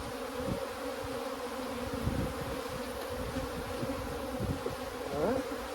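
Bees swarm around an opened abandoned beehive, a steady close-up buzz of many insects with individual bees droning past the microphone now and then.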